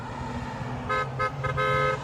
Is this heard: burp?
no